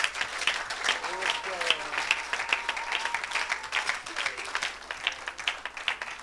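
Church congregation applauding and cheering for Jesus Christ, with dense, continuous clapping from a crowd under raised voices and singing.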